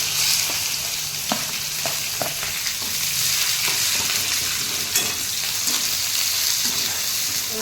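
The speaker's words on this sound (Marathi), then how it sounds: "बऱ्यापैकी असं एकदम गुलाबी रंग होईपर्यंत कांद्याला छान तडकवून घ्यायचं" Onion and chili frying in oil with curry leaves, a loud, continuous close-up sizzle with occasional stirring scrapes and crackles, no voices.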